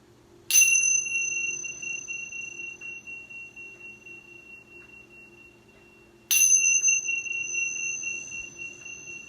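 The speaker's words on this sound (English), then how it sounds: "The chanting bells are rung 3 times in the power of the spirit, mind, and body" Chanting bells struck during a wellness movement session, two clear bright rings, each sustaining a long shimmering tone that slowly fades, heard alone in a quiet room.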